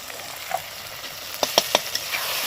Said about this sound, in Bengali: আর এটাকে কষাবো একটুখানি একটুখানি জল দিয়ে কষাবো